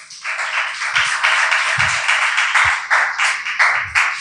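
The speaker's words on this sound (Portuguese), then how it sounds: "Você pode aplaudir Ele nesta noite?" A church congregation applauds steadily during a sermon with dense clapping, fairly loud, with a few low thumps scattered through it.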